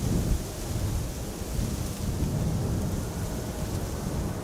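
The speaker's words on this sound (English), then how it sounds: "We're experiencing a little increase in wind." Strong storm wind at Amsterdam Schiphol Airport roars in a steady, broad rush of gusty noise with heavy low rumble, continuous and loud throughout with no voices.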